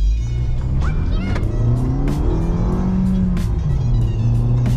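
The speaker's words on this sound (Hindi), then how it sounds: "अब करते हैं कार को लॉन्च।" A Maruti Suzuki Ignis hatchback launching and accelerating hard, engine note loud and close with rising pitch through the revs and a steady roar throughout.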